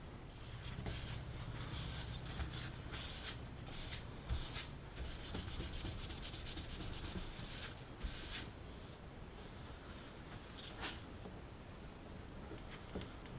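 Close, steady rubbing of a cloth wiping down the freshly repaired wood veneer on a Zenith 5-S-29 radio cabinet, a continuous scratchy swishing with quick back-and-forth strokes and no talking.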